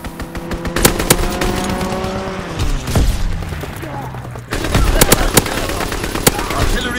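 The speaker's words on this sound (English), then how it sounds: "Fighter pilot inbound, strafing the target." Rapid bursts of machine-gun fire from a strafing fighter plane in Call of Duty WWII, loud and close, with sharp repeated cracks, a low engine drone sweeping past and a heavier burst late on.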